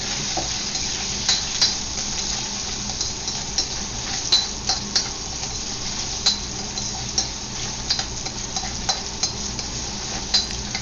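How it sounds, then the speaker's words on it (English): Spam browning in a frying pan, a steady bright sizzle of oil with occasional sharp clicks and taps of a utensil stirring and turning the pieces. "And I'm going to fry the spam first. Give it a quick browning."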